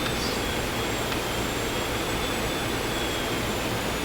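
Jet engines spooling up during an engine start in the X-Plane 11 flight simulator, a dense continuous roar with a faint high whine, steady and loud throughout with no talk.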